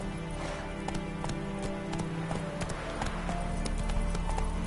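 Roach, the horse in The Witcher 3, gallops with a steady, close clip-clop of hooves over an ongoing game soundscape, with a brief whinny-like touch and no talk.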